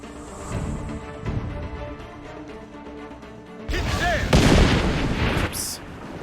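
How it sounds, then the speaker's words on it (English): Cannon siege engine firing in Assassin's Creed Revelations, heavy booming blasts and crashes over a busy game soundtrack, with a louder burst of impacts late in the clip. "the enemies have a cannon siege engine"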